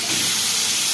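Chopped onion, capsicum and tomato sizzle in a hot pan for pizza topping, a loud, steady hissing sizzle filling the brief moment without pause.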